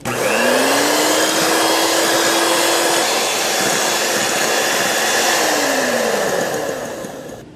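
An electric beater whips whipping cream powder into 1.5 cups of cold milk, a loud, steady motor whir that runs continuously with shifting pitch for several seconds before easing off at the end, with no talk.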